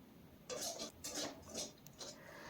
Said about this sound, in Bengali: এখন খুব ভালো করে মিশিয়ে নেব, আর এইভাবে কিন্তু নাড়তে হবে, নাড়া বন্ধ করা যাবে না